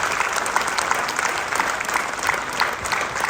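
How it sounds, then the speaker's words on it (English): Applause from an audience at an annual temple event, a dense, steady wash of many hands clapping that stays even and fairly close throughout, with no voices over it. "Please give them applause."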